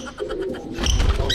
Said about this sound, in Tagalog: Ang ingay din ng isang ibon eh.